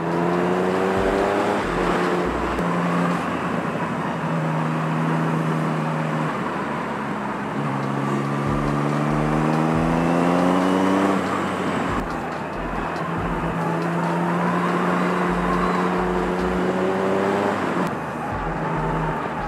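A motorbike exhaust rumbles steadily on a road near Chikmagalur, the engine climbing through gears in repeated rising sweeps with short throttle blips between them, close and loud against road noise.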